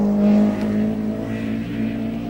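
Bertie Fisher's Tarmac BMW rally car at maximum attack on the Killarney stages of the 1990 Rally of the Lakes, its engine howling loud and close at high revs with a brief pitch dip and recovery.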